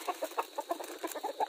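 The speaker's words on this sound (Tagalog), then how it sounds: "So malalaki to. Malalaking tandang." A free-range Rhode Island rooster clucks in a quick, steady series of about a dozen short calls, close by and alone.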